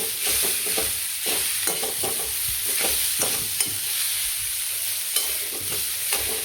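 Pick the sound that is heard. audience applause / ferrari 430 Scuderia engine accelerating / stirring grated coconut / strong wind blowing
stirring grated coconut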